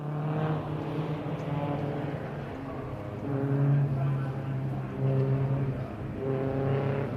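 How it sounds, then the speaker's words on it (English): MG Cup and MG Metro Cup racing cars move around the circuit on their formation lap. Their engines give a steady, moderately distant drone with rising and falling pitch, and no speech is heard. "So the car's just on their formation lap at the minute."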